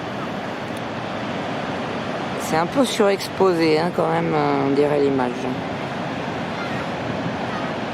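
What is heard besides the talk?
large ocean waves breaking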